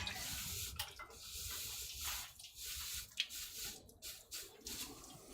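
A ladle is dunked in a water can in a damp smithy, with a fire lit nearby. Sloshing, splashing and trickling water comes through in uneven bursts, close but fairly quiet, with a brief sharp clink partway through and no talking.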